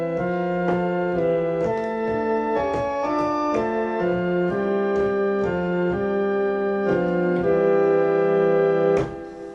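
A church organ plays only the left-hand part of the hymn tune Abbot's Leigh, a steady run of sustained chords that change every second or so, continuous and full, with no voices.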